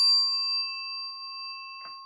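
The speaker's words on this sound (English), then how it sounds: "I'm going to ring the bell" A single bell is struck once, ringing clear and bright before slowly fading, with a soft rustle just before the tone dies away.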